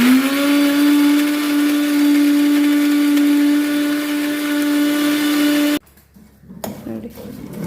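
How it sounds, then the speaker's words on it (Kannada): A mixer grinder whirs loudly with a steady high motor whine while grinding dry prawn chutney, then cuts off abruptly after about six seconds, leaving a few faint handling noises. "ಮಿಕ್ಸಿಗೆ ಹಾಕಿದ್ದೀವಿ."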